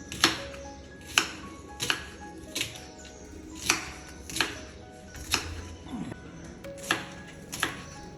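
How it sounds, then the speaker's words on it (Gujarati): A knife chops food for homemade poha in a steady rhythm of sharp, crisp strikes, about one every three quarters of a second, close and clear with no talking. "ચાકુનું ધ્યાન રાખવાનું કેમ કે આમ કટ કરતા"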